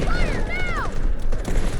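A booming cannon blast in the video game Delta Force rolls out amid busy game noise, with whistling, sweeping tones overhead and a dense, loud background.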